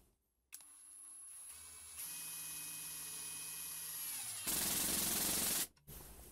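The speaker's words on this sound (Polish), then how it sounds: "Także możemy spróbować, jeden taki wkręt wkręcimy." Parkside Performance PDSSAP 12 A1 12 V cordless impact driver driving a screw: a whining motor runs for several seconds, then a louder, rapid hammering of the impact mechanism, which stops abruptly.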